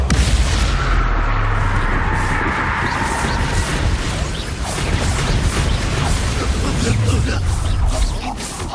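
Spell explosions burst and thud repeatedly in the video game Hogwarts Legacy, loud booming blasts layered with crackling magical effects and combat noise, with a voice speaking over the action.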